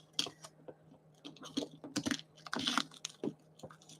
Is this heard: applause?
no